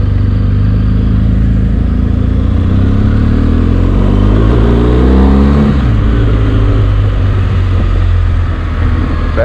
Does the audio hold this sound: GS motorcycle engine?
yes